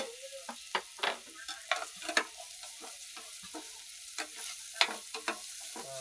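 Aroskaldo, a Pangasinan-style rice porridge, starts with its ingredients being sautéed before the rice goes in: soft sizzling under a steady run of spoon-on-pan scrapes and stirring clatter, close and fairly quiet, with no talking.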